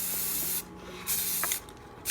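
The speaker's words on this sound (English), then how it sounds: "And then we are going to spray." An aerosol can sprays underneath a Polaris Colt drive train in three steady hissing bursts with short pauses between them, close and fairly loud.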